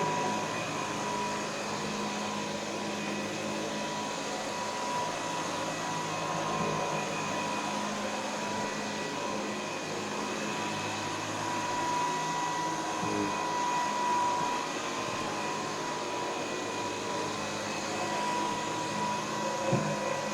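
A vacuum cleaner runs steadily on a low speed setting with its brush roll spinning fast, a constant even whir with a faint tonal hum, alone and unchanging throughout.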